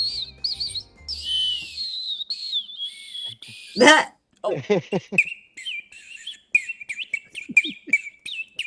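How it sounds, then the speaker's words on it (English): A handheld bird whistle gives bright warbling chirps and trills, some rising and falling glides, with one brief spoken exclamation in the middle. "we are now gonna test this bird whistle and see if we can call in any birds"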